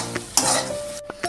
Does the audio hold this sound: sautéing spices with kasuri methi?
yes